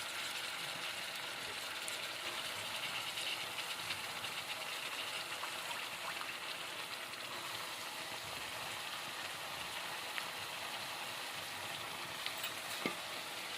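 Soaked lentils sizzle as they fry in hot oil in a home kitchen. The hiss is soft, even and continuous, fairly quiet, with no voices over it.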